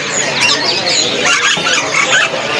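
Pleci white-eye birds at a bird market give a dense, continuous chorus of high chirps and tweets, close and busy, with crowd noise mixed in.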